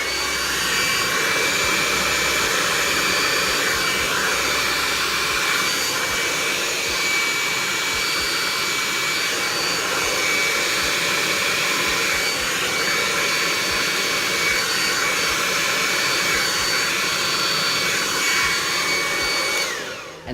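A hair dryer runs continuously on heat setting 2 and power setting 1, a loud, steady, close whooshing roar with a constant motor whine that holds for the full duration and cuts off at the end.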